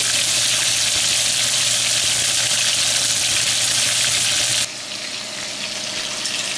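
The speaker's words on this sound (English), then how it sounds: "We've finished browning our Tournedos." Beef tournedos browning in a frying pan, a loud, bright continuous sizzle heard close up that drops abruptly to a quieter hiss near the end.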